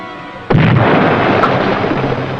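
A destroyer's gun fires a single shot at sea: one sudden, loud, close boom followed by a heavy rolling rumble that carries on to the end.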